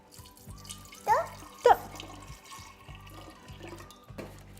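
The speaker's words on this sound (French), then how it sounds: "Liane, on va commencer avec une part d'eau" Water trickles and splashes into a container while a homemade window cleaner is mixed, a steady thin pour with two louder gurgling bursts, and a low rhythmic hum behind it.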